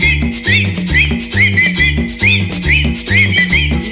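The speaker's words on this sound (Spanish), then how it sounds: "Y ahora chiflando todo" People whistle a melody along to loud cumbia dance music, the whistled line rising and falling over a steady bouncing bass and percussion beat.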